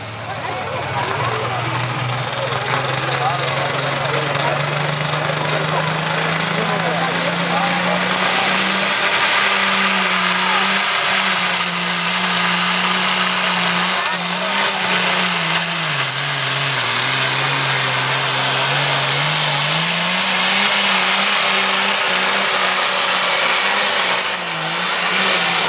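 Competition tractor engine at a tractor pulling event in Thiene, Italy, held at a loud, sustained drone with its pitch dipping and climbing again as it loses and regains revs, with an announcer talking over it.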